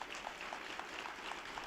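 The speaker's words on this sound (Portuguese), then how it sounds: "São palmas que nos faltavam quando o Santo Padre saudava os fiéis." Light, even applause from a crowd at a papal general audience, a steady patter of clapping that sounds somewhat distant and thin, with no voices over it.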